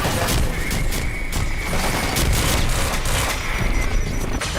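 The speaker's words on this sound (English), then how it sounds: "That's a lot of bombs." Dense, sustained barrage of explosions and blasts from many bombs in the Quantum Break video game, loud and continuous with sharp cracks layered over a rumbling low end, no talking.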